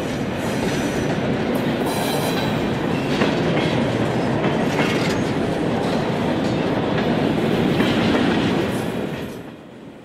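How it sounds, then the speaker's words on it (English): A 1:29 scale model train rolls steadily past a miniature town hotel, a loud continuous rumble with rhythmic clickety-clack of wheels that fades slightly at the end. "We get a close-up from a low angle as the train rolls past the Pearson Hotel at the edge of town."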